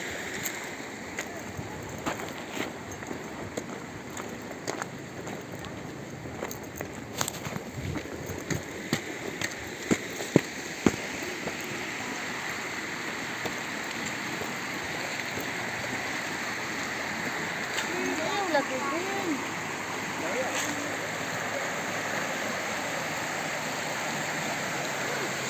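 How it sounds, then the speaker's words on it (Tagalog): A river at a gold panning site flows with a soft, continuous wash of water, faint and steady, broken now and then by small splashes and clicks. "So ito yung kabuuan ng ilog."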